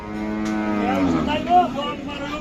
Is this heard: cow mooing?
yes